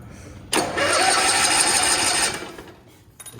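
The starter of a Cushman Truckster cranks the engine in one continuous, loud, whirring burst of about two seconds, then stops without the engine catching.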